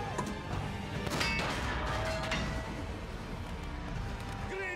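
A tank cannon fires in the video game War Thunder: two quiet, muffled booms a second apart, with voices heard under the rumble.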